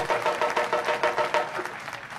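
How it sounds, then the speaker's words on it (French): Short burst of audience applause at a railway launch ceremony in Senegal, a pulsing round of clapping from a crowd, moderately loud and alone. "je voudrais vous demander solennellement deux secondes de tonnerre d'applaudissements à l'endroit de ces gens"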